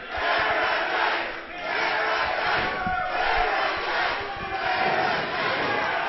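A wrestling arena crowd roars and cheers during a pinfall attempt, a loud, sustained mass of shouting voices that swells and dips slightly but never stops, heard from within the hall.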